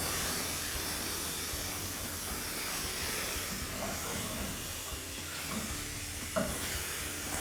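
Fish fillets sizzle in a non-stick pan as they are flipped, giving a steady, moderately loud hiss with a few small clicks and bumps near the end.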